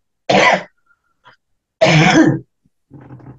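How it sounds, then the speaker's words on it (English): Two short, sharp coughs or throat clears from a person, spaced about a second and a half apart, close and loud, with a softer breathy trailing sound after the second. "So I need to cough again."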